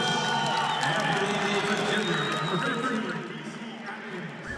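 A fan at a basketball tournament claps loudly and whistles amid a noisy crowd, a dense roar with whistle tones on top that fades slightly toward the end, with people talking throughout.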